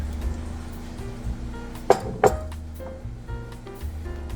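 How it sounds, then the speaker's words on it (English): Milk and cornstarch being stirred into a pot of cheeseburger potato soup: a low simmering bed with two sharp clinks of a utensil against the pot midway and lighter taps after, close by and without talk. "let's give it a stir"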